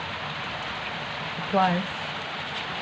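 Steady rain falls outdoors as a constant wet hiss throughout. A voice briefly speaks partway through.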